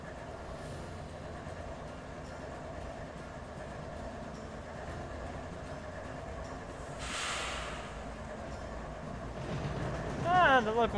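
A train rolling along in the Trainz railroad simulator game, a steady low rumble of wheels and engine with a brief hiss midway and a rising squeal near the end, heard alongside a voice.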